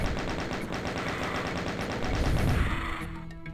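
Machine gun firing in a Doom video game mod, a rapid steady stream of loud close shots with a heavier crashing burst near the end before the firing stops.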